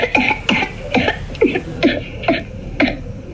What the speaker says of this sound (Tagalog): yung audio ng ubo pa